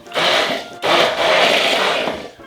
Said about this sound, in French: Impeccable, le couteau à la plonge, machine miracle et on mélange.